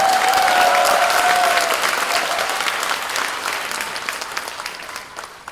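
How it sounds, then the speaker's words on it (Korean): Loud applause from an audience at a political talk concert in Busan, dense and sustained at first, then gradually thinning and fading toward the end, with a brief whistle-like tone near the start. "박수 치고 한번 편하게 치십시오."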